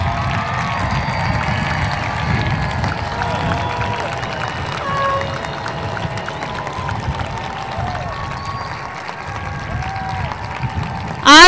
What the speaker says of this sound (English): let's give the class of 2021 a big round of applause